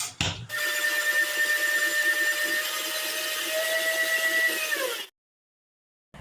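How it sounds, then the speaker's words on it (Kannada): Mixer grinder whirs steadily for about five seconds while grinding curry leaves and spices with a little water for spiced buttermilk, a loud, even motor drone with a high whine that stops abruptly, then silence. "ಇದನ್ನು ನುಣ್ಣಗೆ ರುಬ್ಕೊಂಡು ಬರೋಣ."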